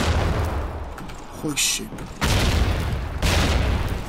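Grenade blasts and gunfire in Call of Duty 2, loud booming bursts and sustained firing, with a man's startled exclamation partway through.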